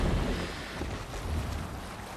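A sailing ship moves over open water in Assassin's Creed Valhalla, with a steady wash of waves and wind rushing past, broad and continuous without breaks.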